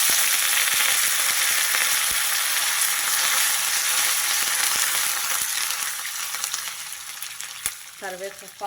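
Dried red chillies and curry leaves crackle and sizzle steadily in hot oil, a dense close frying hiss that eases slightly toward the end with a few stirring clinks.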